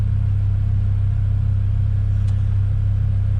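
BMW M5 with the S85 engine, which has Vanos faults, idling steadily up close as a continuous low, throbbing drone with no voices.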